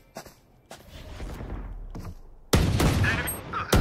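Gunfire in the video game Valorant: a few sharp, separate shots early on, then a loud, dense burst of rapid firing with clattering impacts near the end, close and heavy, with no talking.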